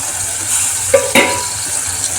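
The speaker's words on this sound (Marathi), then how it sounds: "आता आपण याच्यामध्ये आलू टाकणार आहे." Potatoes go into a tomato masala frying with chili, salt and oil in a pan, giving a steady close sizzle with a couple of sharp scraping stirs partway through; no talking.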